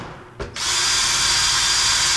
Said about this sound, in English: I drill usually about 1/4 of an inch and I usually drill 6 or 8 holes around the outside edge.